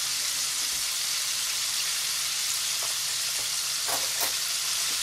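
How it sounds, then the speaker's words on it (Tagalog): Three tablespoons of butter melting in a pan as the base for fried-chicken gravy, hissing and sizzling steadily throughout, with a few faint clinks near the end and no talk. "Ni-melt lang natin yung butter"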